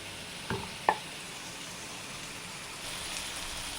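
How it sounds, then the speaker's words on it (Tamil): Thinly sliced radish sautés in a pan with a soft, faint sizzle, broken early by two sharp clicks of a utensil against the pan, then a light rise in crackle near the end. "முள்ளங்கி வதக்கணும், தொக்கு மாதிரி பண்ணிடலாம்."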